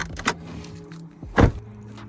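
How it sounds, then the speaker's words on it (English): A stock Corvette Z06's hood latch releases with a light click, then a single dull clunk as the hood pops open, close and fairly quiet. "So let's pop the hood real quick."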